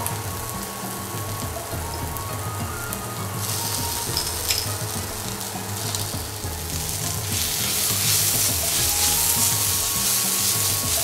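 Onions frying steadily in a pan with ginger and garlic being added for a Goan-style fish curry with cashews, a continuous close sizzle with stirring scrapes that grows louder and brighter toward the end.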